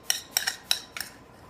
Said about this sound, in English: I like to give it a little stir,